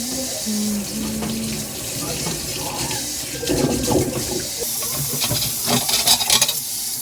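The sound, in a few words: washing up under a running water tap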